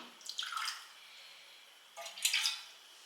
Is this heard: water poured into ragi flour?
yes